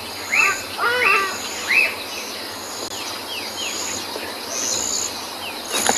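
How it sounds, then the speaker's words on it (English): Birds call in the early morning on an African safari, with several sharp, repeated chirping calls that come and go over a steady background of insect trilling and low hum. "Lots of birds this morning."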